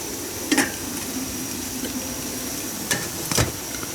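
Minced garlic frying in oil in a wok gives a steady soft sizzle, with a few brief clinks of a spatula stirring against the pan.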